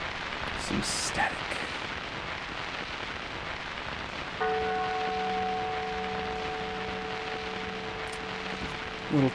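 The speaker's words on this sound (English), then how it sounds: "Little church bell to establish the vibe." A small church bell rings once, a sustained tone that hangs and slowly decays over a steady bed of static hiss, fairly quiet and alone with no talk.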